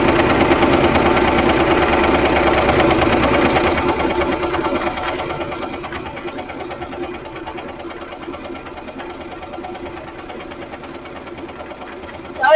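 A Singer Fashion Mate sewing machine stitches steadily, its loud, fast mechanical whir and needle chatter running continuously before easing slightly partway through, with no voices.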